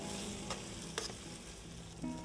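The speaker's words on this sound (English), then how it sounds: "I like to go right from the pot to the frying pan" Cooked pasta tossed from the pot straight into a hot frying pan, a steady close sizzle with a few sharp scraping clacks of the utensil against the pan, no voices.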